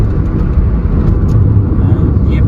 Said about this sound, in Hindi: यहाँ पे काफ़ी लंबा ट्रैफिक है